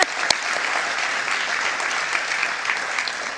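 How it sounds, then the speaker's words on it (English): Luncheon audience at a pharmacy college scholarship and fellowship recognition event breaking into a big round of applause, dense and sustained clapping filling the room, loud and steady after a sharp start. "Let's give them a big round of applause."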